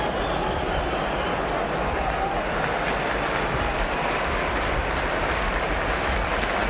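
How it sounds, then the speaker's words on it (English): A stadium crowd at a 1968–69 Arsenal versus Swindon Town football match applauds steadily for a Swindon player, a broad, continuous wash of clapping and crowd noise lasting throughout without a break. "Samuels, having retrieved that ball for Swindon, getting a round of applause as he does so."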